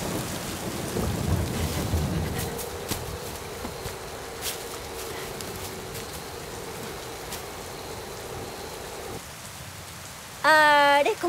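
Steady rain falls with deep rolling thunder rumbling early on, followed by a sustained tone and a short burst of sound at the end.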